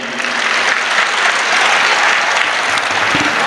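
Audience at an All India Mushaira poetry gathering held at a college, clapping for the organizers. A dense, steady round of applause fills the whole stretch with no voices.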